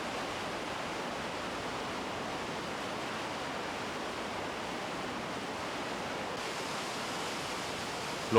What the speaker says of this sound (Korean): 로키에는 봉우리에 눈 녹은 물이 오랜 세월 바위를 깎아서 만든 폭포가 많다.